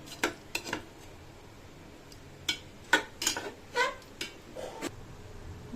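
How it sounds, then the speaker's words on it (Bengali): Rice and chicken being stirred in a cooking pot for Hyderabadi chicken polao, a series of irregular metallic scrapes and clinks of a utensil against the pot, separated by quiet pauses. "নেড়ে দেবো চাল, ভালো করে প্রথমবার নেড়ে দেবো ভালো করে, যাতে চালটা সব দিকে ছড়িয়ে যায়"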